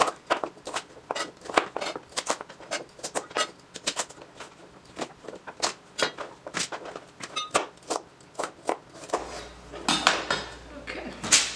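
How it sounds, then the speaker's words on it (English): Knife chopping parsnips on a cutting board, a long run of crisp, sharp knocks at an uneven quick pace, close and fairly loud, with faint background noise near the end. "So now we're going to go ahead and chop up our parsnips"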